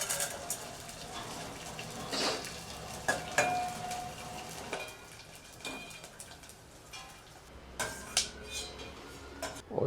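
Edible gum (gond) crackling and sizzling as it puffs in hot ghee in a pan while making churma laddu, a steady close fry with scattered sharp pops and a few stirring clatters.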